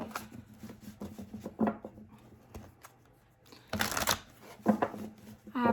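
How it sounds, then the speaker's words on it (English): Tarot cards being shuffled by hand, several quick riffling bursts and soft slides separated by pauses, close and crisp, with faint talk in between. "3 more shuffles for Aries."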